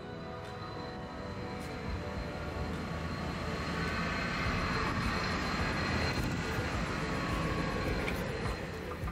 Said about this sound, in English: The jet engine generator fired up on the airfield across the street from our boat.